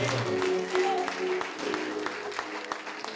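A church congregation at a night prayer vigil applauds and cheers in praise, steady clapping spread through the room with a sustained organ or keyboard chord underneath and some voices mixed in.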